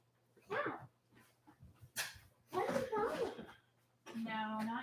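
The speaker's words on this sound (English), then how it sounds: "Jeez, I've never seen dogs so ill-behaved." Several dogs bark, yip and whimper indoors in short close bursts, with people talking between and over the noise.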